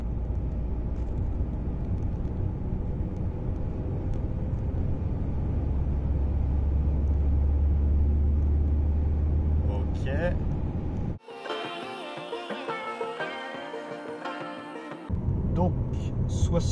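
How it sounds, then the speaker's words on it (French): An EPROM-remapped car accelerates hard in fifth gear from 80 to 100 km/h, a loud low engine rumble building steadily before the sound cuts abruptly to a brighter, noisier stretch, with a voice faintly present. "Et au top, j'écraserai l'accélérateur."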